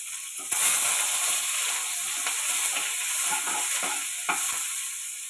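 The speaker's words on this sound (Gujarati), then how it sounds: "એ ડુંગળી નાખી દઈશું। ચલાવી લઈશું।" Onions sizzle in hot oil with a pinch of asafoetida while a spoon stirs and scrapes through them now and then, a steady close hiss with no voices, cooking for vagharel bhat.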